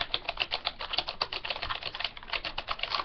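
Rapid keyboard typing, a dense run of clicky keystrokes close by with no voices, keeping a fairly steady rhythm throughout.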